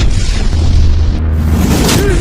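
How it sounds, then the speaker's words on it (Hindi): Rifle fire and artillery shells bursting in a mountain valley in Ladakh before dawn: loud, dense, continuous rumbling booms with no pauses, a voice faintly present beneath. "बंदूक से चलने वाली गोलियों और तोप से दागे जा रहे गोलों के धमाकों से गूंज उठा"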